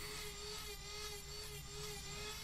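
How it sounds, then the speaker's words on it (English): A handheld Dremel rotary grinder with a small drum sanding wheel works the edges of a mini cleaver knife blade, giving a steady high-pitched whine over a constant gritty hum that runs without pause. "You can finish off some of the edges with a Dremel grinder."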